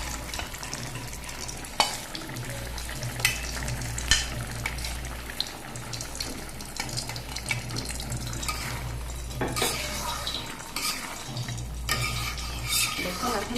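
Fried eggs added to a curry in a pan, steady stirring and bubbling sizzle with intermittent utensil clinks and watery sloshing throughout.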